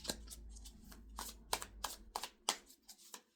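Deck of playing cards shuffled for an intuitive energy reading, a series of crisp riffling bursts about every half second, close and fairly quiet, with no talking.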